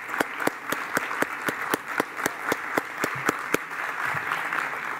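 Forum attendees applaud a guest with a fairly quiet round of clapping. A clear, rhythmic chain of close, sharp claps stands out at first, then thins into a softer, more scattered patter.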